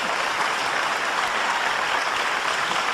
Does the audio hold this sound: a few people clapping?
yes